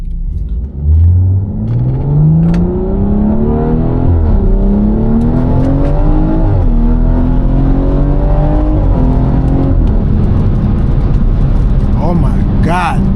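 BMW 340i exhaust revving hard while driving, a loud, close, continuous engine roar with rising and falling pitch sweeps as it accelerates through gears, with people talking over it.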